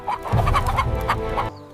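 Chickens cluck busily and close by, with a rooster among the fowl, a dense run of short clucks for under two seconds.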